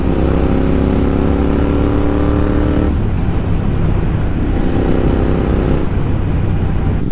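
A Royal Enfield Interceptor 650 motorcycle fitted with a Red Rooster exhaust rumbles loudly and close, its engine note steady and throaty with shifts in pitch around the midpoint and near the end.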